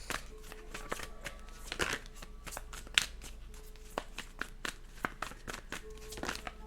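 Tarot cards are shuffled by hand in a run of quick, crisp riffles and soft taps, close and fairly quiet, with faint talk in the background.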